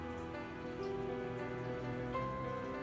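Steady rain falling on a surface, a continuous even patter that holds at the same moderate level from start to finish with no voices.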